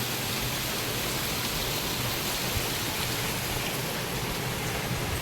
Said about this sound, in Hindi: इतनी ज़ोर से बारिश है आज